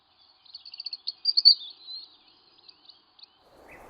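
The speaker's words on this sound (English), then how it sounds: "You'll be extremely unlucky not to see Britain's most loved bird, the robin." European robin, a red-breasted thrush, singing alone in thin, high, quick trills and twittering phrases, moderately close, with a short softer rustle at the end.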